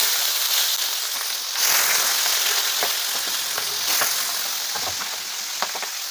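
Pieces of boal fish sizzle as they drop into well-heated oil, a loud, steady frying hiss with scattered crackles and pops that swells briefly as more pieces go in, and no voices.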